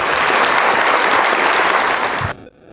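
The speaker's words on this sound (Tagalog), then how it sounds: "Palapakan po natin ang ating Panginoon." A church congregation claps for the Lord in a dense, steady burst of applause that fills the room for a couple of seconds, then stops abruptly.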